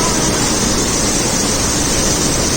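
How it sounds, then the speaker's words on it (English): Dense, steady roar of a hidden waterfall in Arunachal Pradesh, rushing water filling the whole band loudly and continuously with no voices over it. "sound of the waterfall."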